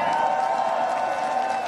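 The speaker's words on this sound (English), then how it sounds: "Among the crowd of tens of thousands gathered at the Warsaw Royal Castle" Crowd of tens of thousands gathered at the Warsaw Royal Castle, a dense, steady roar of many voices with faint cheering blended in, loud and continuous throughout.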